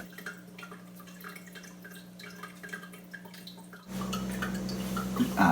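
Blue dye squeezed from a syringe drips into water-filled wells of a groundwater model, small soft drips and trickles over a low steady hum, growing busier and louder toward the end.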